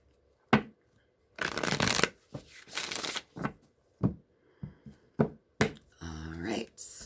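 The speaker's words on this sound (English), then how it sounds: "one more shuffle" Tarot cards being shuffled by hand, several quick riffles and snaps in separate bursts, close and crisp, ending with a brief muffled rustle.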